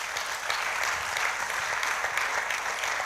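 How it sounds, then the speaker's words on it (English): A workshop audience claps together in a steady, dense burst of applause that holds at an even level throughout, with no voices rising above it. "let us give them a very big round of applause"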